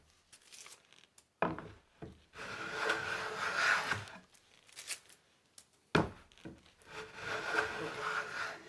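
Freshly sharpened hand plane shaving and rounding over a wooden batten, several rasping strokes in bursts with short pauses, close and fairly loud, no talking.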